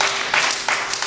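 Brief, loud applause from a church congregation, a dense patter of hands clapping together for about a second, close and filling the room.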